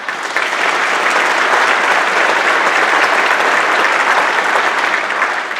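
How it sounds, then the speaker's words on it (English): A school winter concert audience claps steadily for the sound crew, a dense, even wash of applause that holds at full strength for several seconds without speech. "so if you'd give them a hand for us."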